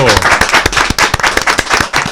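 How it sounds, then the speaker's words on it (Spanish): Close, sharp clapping from a small talk-show studio audience welcoming a guest, individual claps standing out in a brisk uneven rhythm throughout. "vamos a recibir con un fuerte aplauso"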